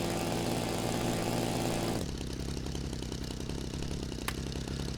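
Model aircraft engine in the Phoenix RC flight simulator throttling down for landing: a steady buzzing drone drops sharply to a lower, quieter idle hum, with a faint click near the end.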